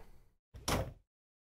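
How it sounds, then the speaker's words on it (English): A door closes in the video game Zero Escape: 9 Hours, 9 Persons, 9 Doors, a soft rustle followed by a single muffled thunk, fairly quiet and alone. "Close the door again."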